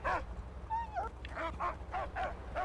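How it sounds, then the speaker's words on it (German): Dog in the Mad Max video game giving a series of short whimpering barks and yips, about six or seven high-pitched calls in an uneven rhythm, fairly close and clear over a low background hum. "Eigentlich bellt er doch schon so, als würde er das direkt vor uns sehen."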